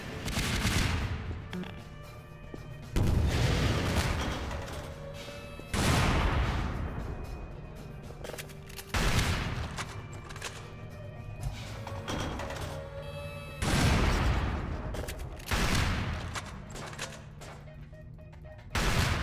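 Video game gunfire on the Three Rooms map comes in several separate bursts of loud shots, spaced a few seconds apart, with quieter gaps of room tone between them.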